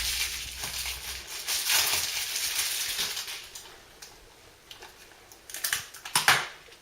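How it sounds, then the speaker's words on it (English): Crinkling and tearing of plastic shrink wrap being pulled off an Xbox One game case, close up with irregular crackles and sharper snaps toward the end, no voices. "I'll just unwrap the actual game itself"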